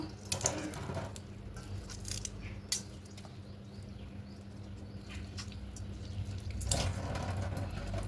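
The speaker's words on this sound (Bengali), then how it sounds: "সব সয়াবিনগুলো জল টিপে টিপে এই সয়াবিনগুলো টিপে জলগুলো বার করে নেব" Wet squelching and dripping as soaked soya chunks are squeezed by hand to press the water out, soft splashes and drips recurring over faint background noise.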